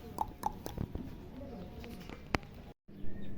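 Fancy pigeons coo softly in a pigeon farm, a few low throaty coos and scattered calls over faint background noise.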